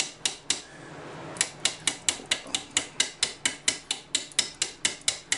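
Hammer blows whacking a drilled SFIC lock core held in a vise, a steady series of about twenty sharp metallic strikes at a regular, quickening rhythm after a brief scraping pause, close and loud with no talk.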